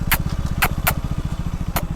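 A KTM Duke motorcycle engine idles close by in cold weather, a steady low throbbing pulse with a few sharp high clicks or ticks on top, with no talk over it.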